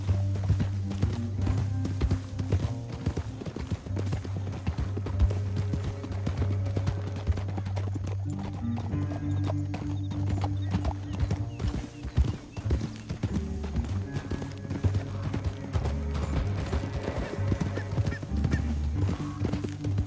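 In Red Dead Redemption 2, steady clip-clop of horse hooves at a brisk pace under a continuous low musical drone, with a brief whinny-like cry partway through.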